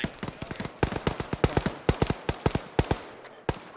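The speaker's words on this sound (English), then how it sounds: "It's AK fire." Rapid bursts of AK rifle fire in an ArmA 3 infantry battle, sharp cracks rattling off in uneven clusters, fairly close and loud, with no talk over them.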